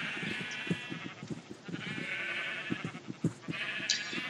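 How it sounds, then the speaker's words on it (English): In a video game, sheep bleat repeatedly in short, quiet calls over a steady background hum, with no talking. "What sheep? Which sheep is this talking to me?"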